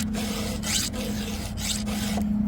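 Hand file rasping across a chainsaw chain to sharpen its cutters, a steady close-up scraping with repeated strokes over a constant low hum.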